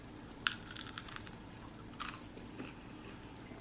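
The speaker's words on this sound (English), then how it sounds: "Let's see if this crunch is good." Two close, crisp crunches a second and a half apart as someone bites into a baked three-ingredient snack with a sweet onion flavor, quiet otherwise and with no talking.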